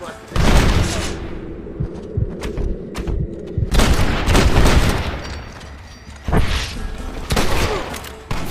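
Red Dead Redemption shootout around a gate being blown open with explosives: loud booming blasts and rolling volleys of gunfire in repeated surges, with voices shouting over the battle.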